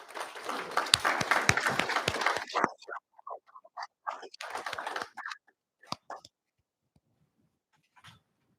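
Applause from an audience at a school district board of education meeting honoring high school students, a dense burst of clapping for about three seconds that thins into scattered claps and a second short swell before fading out.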